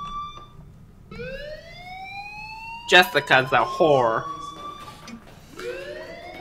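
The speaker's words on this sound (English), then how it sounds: "Hey, do you hear the fire alarm?" In the video game Life Is Strange, a fire alarm sounds as rising electronic sweeps that repeat at a steady pace. A voice speaks over the middle of it.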